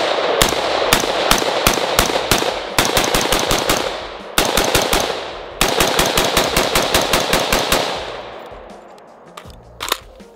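A Stag 15 AR-15 rifle fires loud rapid strings of shots in several bursts, with brief pauses between groups and fading echoes at the end, heard outdoors on a range.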